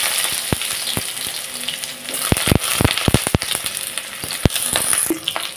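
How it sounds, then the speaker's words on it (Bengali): Pointed gourd (potol) fries in hot oil in a kadai, a continuous sizzling hiss punctuated by sharp crackling pops and occasional stirring knocks, close and fairly loud. "আগে পটলটাকে ভেজে নেব।"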